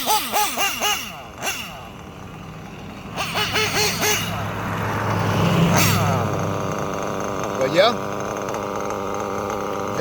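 A Reds R5R nitro engine with a horizontal carburetor runs in bursts, its high buzzy revs rising and falling in pulses before settling into a steadier drone, with a person talking over it.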